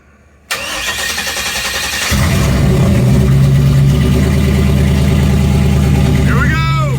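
An LSx-powered Humvee cold-starts with a cranking burst that catches into a loud, steady idle, rising after about two seconds to a fuller, higher rumble that holds to the end.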